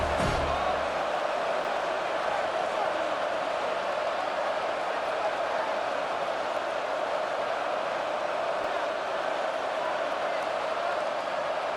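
A stadium crowd in the College Football 27 video game, a steady, dense roar of many voices that runs continuously at an even level throughout.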